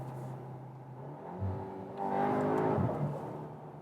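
Volkswagen Arteon R GT, 320 hp AWD, engine set to its pure sound mode: a quiet, muffled hum from inside the cabin that swells into a modest rev, then settles back to a soft drone.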